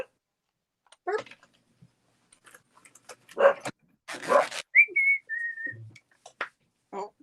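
A dog gives a few scattered barks and yelps with short whimpering whines, fairly close, amid quiet gaps and light background noises.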